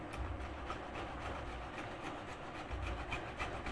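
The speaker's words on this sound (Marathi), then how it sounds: "आता मी ह्याच्यामध्ये जायफळ आपलं राहिलं वासाचं घालायचं हे थोडं ह्याच्यामध्ये किसून घालते" Nutmeg is grated by hand into a cooled sweet filling for steamed modak, producing repeated soft rasping strokes in an even rhythm, close and fairly quiet, with no talking.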